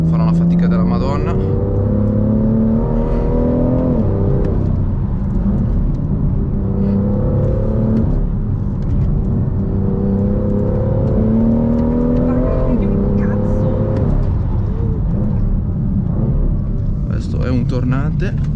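A 370 HP BMW M2 drifting on a street revs hard through repeated rising gear pulls, each climb followed by a drop, loud and close throughout with a little talk heard beneath the engine.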